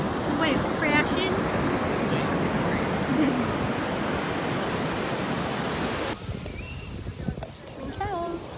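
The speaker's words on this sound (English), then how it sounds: "The waves crashing." Ocean waves crash and wash onto a beach in a steady, dense roar with some wind, and faint voices can be heard in the background.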